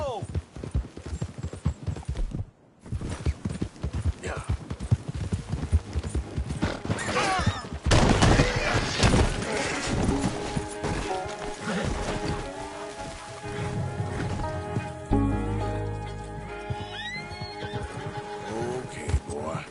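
Horse in the Red Dead Redemption 2 video game galloping, with rapid rhythmic hoofbeats and a neigh, a loud game soundtrack and effects running throughout, and a voice speaking over it.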